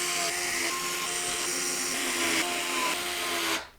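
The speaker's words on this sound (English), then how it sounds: "we're going to use these long radiator screws to secure the fans to the radiator" Powered screwdriver driving long radiator screws through PC case fans into a Cougar Duoface Pro RGB radiator, a steady continuous whine with tonal harmonics held for over three seconds, close and loud, cutting off abruptly at the end.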